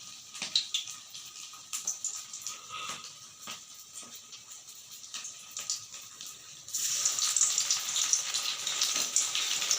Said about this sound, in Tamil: ஒரு ரோல் மாதிரி இப்படி பண்ணி எண்ணெயில் போட்டு பொரிச்சு எடுக்கும்.